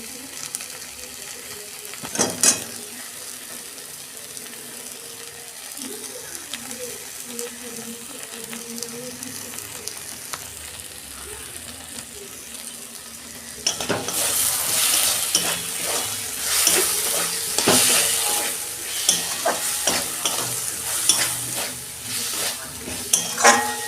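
Masala for homemade ghugni, loosened with sauce instead of tomato, sizzles and fries in a pan under steady stirring. It starts as a low simmering crackle, then the sizzle and scraping turn loud and busy for the last ten seconds.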